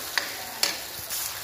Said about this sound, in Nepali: यति मसला भुट्यो भने